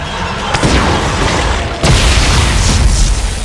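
Heavy booming blasts from a bomb exploding in the video game Dead Space 3, two loud close detonations, the second sharper and followed by a sustained rumbling roar.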